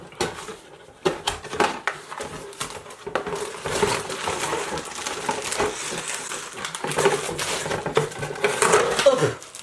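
Cardboard packaging of a Revlon Salon One Step hair dryer is opened by hand, with close crinkling, tearing and scraping rustles coming in irregular bursts.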